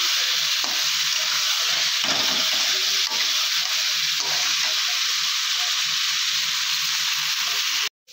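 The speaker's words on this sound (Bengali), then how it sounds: "ভালো করে কষিয়ে নেব।" Pataal phor sautéing in a pan, a loud, continuous close sizzle of frying with repeated stirring scrapes before it cuts off abruptly at the end; no speech.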